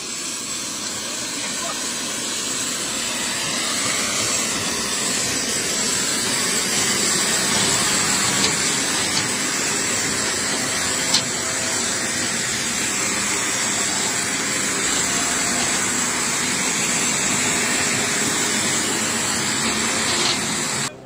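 Jet airliner engines roar steadily and loudly at an airport as deported Algerian football fans board a plane, a constant broadband hiss and rumble running throughout with faint voices beneath.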